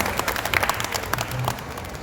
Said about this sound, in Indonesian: Tepuk tangan untuk Kang Asep boleh.